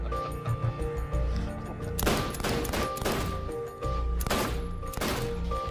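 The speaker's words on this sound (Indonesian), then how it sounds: "Mickey malah menembak ayahnya sendiri sampai mati" Gunfire in the 2021 film Clean: a string of loud, sharp gunshots fired in quick bursts, with several close cracks spaced over a few seconds against a tense background.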